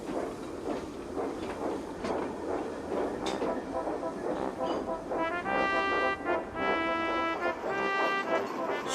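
A small narrow-gauge steam engine works down a steep mountain track hauling coal, its rhythmic chuffing and rail clatter steady and moderately close, with whistle-like tones sounding near the end amid music.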